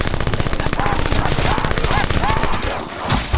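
Rapid gunfire from the zombie mode of the video game Call of Duty: Black Ops 4, dense and loud bursts of automatic fire rattling continuously through the whole stretch.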